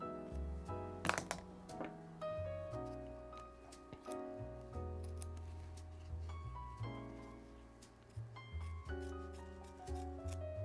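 Scissors snipping through garment fabric stretched in an embroidery hoop, with close, quiet, irregular cutting clicks and small rustles.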